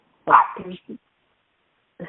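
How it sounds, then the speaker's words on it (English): A small dog plays with a thrown ball, giving a few short yips and barks up close, followed by a brief pause and another quick bark at the end. "throwing a ball at the little doggy to run around"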